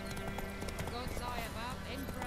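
A horse's hooves clip-clop rapidly and steadily in The Witcher 3: Wild Hunt, mixed with game sounds and a brief whinny while a voice speaks over it.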